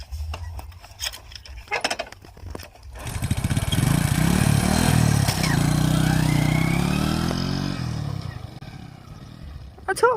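Motorcycle engine under way as the bike is ridden, rising into a loud, steady drone for several seconds with climbing pitch, then fading, framed by brief clicks and handling noises before and after.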